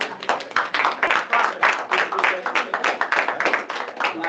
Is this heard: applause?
yes